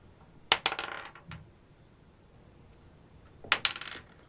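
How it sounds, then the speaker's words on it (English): Twelve-sided dice clatter in two separate rolls, each a quick burst of sharp clicks and tumbling rattles settling over about a second, with quiet room tone between. "By the way, I'm rolling a lot of d12s."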